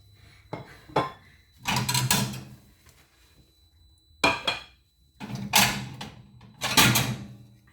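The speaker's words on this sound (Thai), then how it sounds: "เสียงดังนิดหนึ่งนะคะ เก็บถ้วยเก็บจาน" Dishes and bowls clatter and scrape in several bursts, with clinks and knocks of crockery being stacked close by, separated by short pauses.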